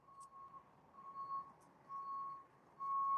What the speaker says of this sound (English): Who's backing up? Is it Walmart?